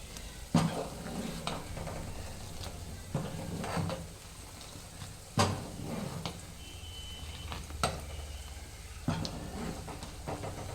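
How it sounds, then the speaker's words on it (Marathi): A spoon scrapes and stirs soaked sorghum flour into boiling water in a pot in a few separate strokes, with soft bubbling between them, close by and moderately quiet. "उकळत्या पाण्यामध्ये थोडं थोडं भिजवलेलं पीठ घालून आपल्याला ते फिरवावं लागते"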